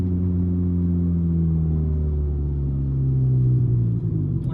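A 1995 Honda Del Sol, a front-wheel-drive car fitted with a big turbo, accelerates with a steady, close engine drone whose pitch climbs gradually under load.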